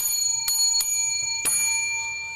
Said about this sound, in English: I'm going to give my first ever 5 bell to Kelvin Joyner.